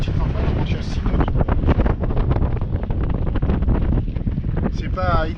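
A sailboat running in a crosswind of about 12 knots on a flat sea with occasional gusts, heard as steady loud rushing wind buffeting the microphone and water hissing along the hull.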